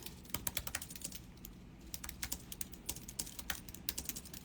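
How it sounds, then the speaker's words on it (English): Rapid, uneven clatter of keys being struck on a computer keyboard, close by, with short bursts and brief pauses and no talking. "I'm typing down my stuff."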